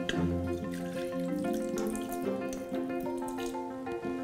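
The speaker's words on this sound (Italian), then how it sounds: "e versiamo circa 50 ml di acqua sul fondo" About 50 ml of water is poured into the bottom of a multifunction pressure cooker air fryer holding eggs, making a continuous steady splashing stream with background music throughout.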